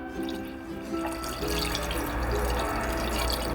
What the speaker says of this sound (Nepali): अब यसमा पानी राखौँ